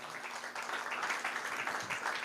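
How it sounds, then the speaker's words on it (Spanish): A church congregation claps through a short burst of applause at the close of a service, a steady wash of many hands filling the room without speech. "denle un fuerte aplauso al cierre"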